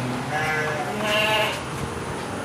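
Sheep and goats bleating in a new livestock pen, loud and close, with overlapping wavering cries over a busy farmyard background.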